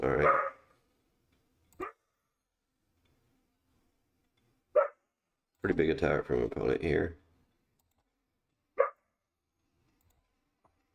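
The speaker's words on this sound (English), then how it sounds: "Excuse my dogs." Dogs bark indoors in a few short, sharp bursts spaced several seconds apart, while someone talks quietly between them.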